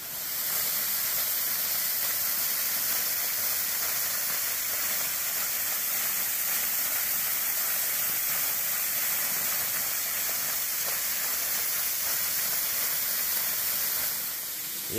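A waterfall at Lick Creek in Daniel Boone National Forest rushes in a steady, bright hiss of falling water, constant and fairly close with no voices.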